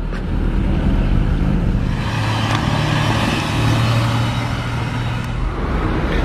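Porsche GT4 sports car rolling past on a Monaco street, a steady low engine rumble blended with surrounding traffic noise that stays fairly loud and even throughout.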